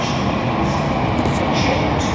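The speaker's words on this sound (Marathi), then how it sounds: "ही बघ आता ही दुसरी एक मेट्रो आली आहे" A Mumbai Metro Line 3 train pulls into a station with a loud, dense, steady rumble and rushing roar that fills the whole short stretch without pause.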